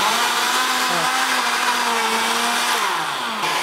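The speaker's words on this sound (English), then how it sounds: "So I'm going to blend it, puree it to some smooth texture" A countertop blender runs steadily, pureeing tomatoes, onions and red peppers into a smooth sauce for jollof rice red stew; a loud, continuous motor whine with shifting pitch as the contents churn.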